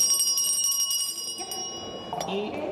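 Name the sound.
bell ringing during constitutional commission vote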